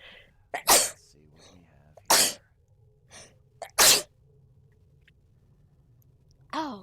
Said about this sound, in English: I've not been able to stop sneezing today.